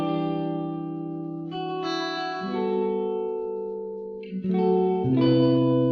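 Sustained tonal chords washed through a grainy echo reverb preset in a free VST plugin, thick and shimmering with lingering decay tails, loud and steady with no voices.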